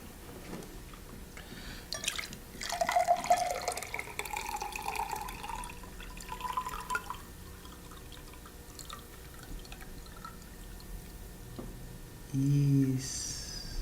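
Dirty water poured from a container into a glass, a soft trickle with scattered drips that swells briefly and then fades to quiet dribbles, close and gentle, with no talk over it.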